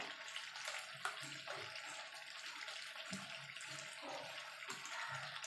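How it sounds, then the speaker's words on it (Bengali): Hot water is poured into chicken and potato curry cooking in a pot, making a continuous, fairly faint splashing and gurgling throughout, with no voices. "এখানে আমি গরম জল দিচ্ছি"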